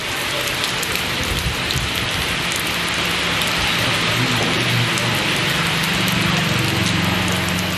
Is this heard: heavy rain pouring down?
yes